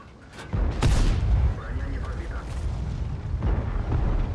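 Tank cannon fire in World of Tanks aimed at a VK4502B heavy tank, a loud booming shot near the start with a second blast around the midpoint, over low rumbling battle noise and a speaking voice.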